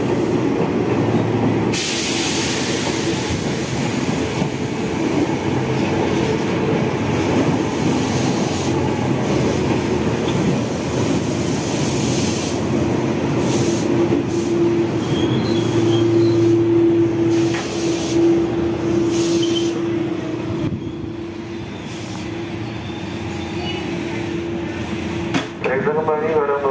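A KRL commuter electric train, the TM7000 series on the Bogor line, runs past steadily and loudly with broad rumble and rail noise, a sustained squealing tone rising midway, then easing slightly toward the end.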